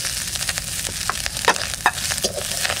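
Green chillies hit hot oil with fried coconut, a steady sizzle marked by several sharp spatters and stirring scrapes, close and unaccompanied by speech.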